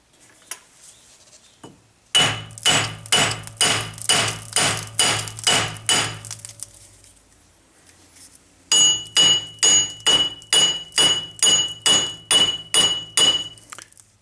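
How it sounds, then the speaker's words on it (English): Two bursts of heavy metallic hammer blows on a 2002 Pontiac Grand Am front wheel bearing hub, about a dozen evenly spaced strikes each, ringing sharply up close with a pause between the bursts. "You're going to have to get yourself a big hammer, bang on it."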